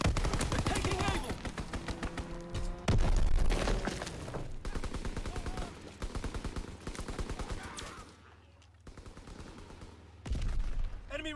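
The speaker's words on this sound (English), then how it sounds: "Enemy mortar fire incoming." Dense bursts of gunfire and heavy thuds of mortar fire in a Call of Duty WW2 battle, rapid machine-gun rattles and loud impacts running throughout, with in-game voice callouts over the top.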